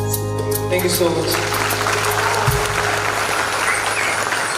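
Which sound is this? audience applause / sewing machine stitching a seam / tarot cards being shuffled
audience applause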